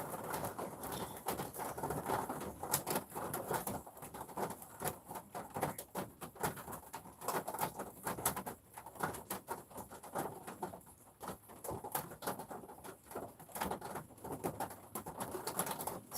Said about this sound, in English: there the rain came back again. Heavy again.